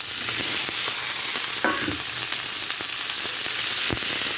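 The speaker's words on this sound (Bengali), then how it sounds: "কলা কিন্তু খুব বেশি পোক্ত না, জালি কলা, তার জন্য আমি একসাথে ভেজে নিচ্ছি।" Soft young green bananas fry in a pan with a steady, close hissing sizzle, dotted with occasional pops and a stir, and no one speaking.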